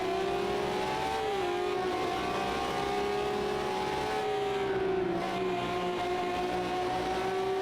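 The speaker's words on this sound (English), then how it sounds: "way down to 40 coming into that turn. That is massive deceleration." A Ferrari 333SP race car at Road America braking hard from high speed into a turn, its engine note dropping in a loud, continuous onboard drone as it slows, with steady wind and road noise and no talk.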